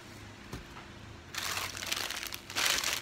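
Dollar Tree decorative mesh being handled, a faint crinkle at first, then louder dry crumpling and rustling bursts close up that swell toward the end.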